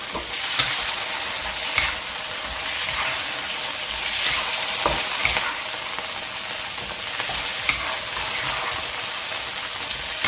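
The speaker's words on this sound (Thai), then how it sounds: "แล้วเราก็เอามาผัดคลุกเข้ากับ น้ำมันเล็กน้อย" Blanched choy sum is stir-fried with a little oil in a hot pan, a close, continuous sizzle broken by scraping stirs and tossing throughout.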